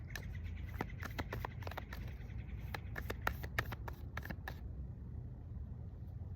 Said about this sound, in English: And as I shuffle, just